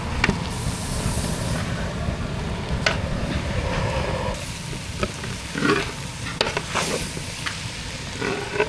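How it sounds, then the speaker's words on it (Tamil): Vegetable noodles stirred in a pan over a high flame, a constant loud sizzle with repeated metal scrapes and clanks of the utensil against the pan. "தீயை வேகமாக வச்சு நல்லா கலந்து விட்டுக்கலாம்"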